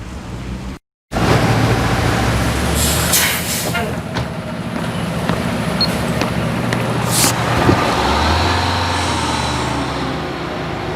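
Road traffic and a bus make a steady, loud rumble that carries on for several seconds after a brief cut at the start, with some higher hiss and a couple of faint clanks mixed in.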